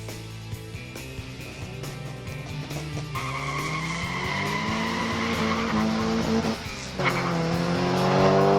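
Small 1/64 scale diecast muscle cars race down a track, with continuous rolling, whirring wheel noise that builds and grows louder toward the finish, alongside engine-like roar and squeal effects.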